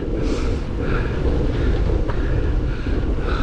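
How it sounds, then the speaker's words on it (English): Strong wind buffets the microphone while cycling outdoors, a loud, continuous low roar with faint fluttering above it and no speech. "Got wind, but it's not too much of a headwind"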